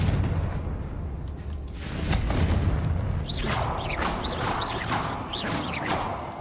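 Explosion spell cast in a wizard video game: a deep booming blast followed by a run of rising whooshing magical bursts, loud and close, with no talking.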